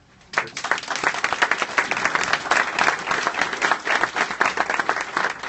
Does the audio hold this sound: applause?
yes